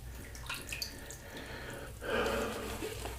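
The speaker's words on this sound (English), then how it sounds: "I'm going to drip that on the face of the brush." A little water drips onto the face of a shaving brush: soft, quiet wet patters and a brief splashy burst over a low background hum.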